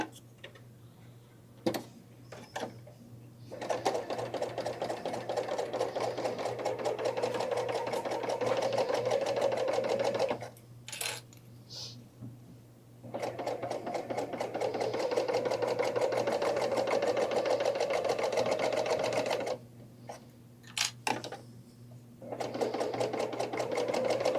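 A sewing machine stitches the seams of a VIP spring event tote bag in three long, steady runs of rapid stitching, separated by short pauses with faint handling noises. It is close and fairly loud, with no talking.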